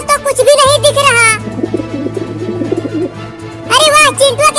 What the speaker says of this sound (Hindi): चिंटू के घर में से कबूतर की आवाज आ रही है।